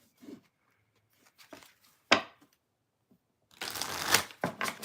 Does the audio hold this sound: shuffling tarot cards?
yes